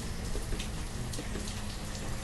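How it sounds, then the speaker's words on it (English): Steady rain in the city-building video game Banished, a continuous even hiss of falling drops with no pauses, filling the background at moderate level. "The rain noise is going to keep going, but that's okay."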